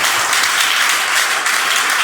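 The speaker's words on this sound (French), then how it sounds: "Par l'applaudissement, c'est pour lui." A church congregation applauds during a sermon, a dense, even wash of many hands clapping that continues steadily throughout.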